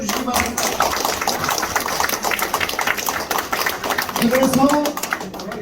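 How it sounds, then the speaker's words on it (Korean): Dense, steady applause from a crowd fills the room at a campaign office opening for a People Power Party candidate for governor of North Chungcheong, with voices mixed in toward the end. "박수 한번 쳐주시기 바랍니다"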